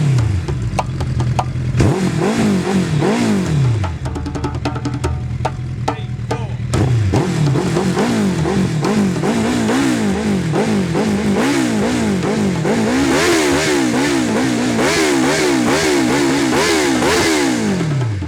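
A group of superbike motorcycles on a club ride revs and rides past, with loud, overlapping engine notes rising and falling in repeated throttle sweeps, close by and sustained with no talk.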